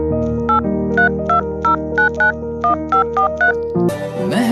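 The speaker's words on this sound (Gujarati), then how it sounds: "એને ફોન કરવા દે।" A phone number is keyed in as a rapid run of about a dozen clear, evenly spaced dialing tones over a steady background tone, close and loud, followed by a burst of other sound at the end.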